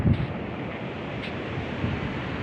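Surf rolling onto a black-and-white sand beach at Pantai Dlodo Rejosari, a steady broad wash of waves mixed with wind buffeting the microphone, with no talk.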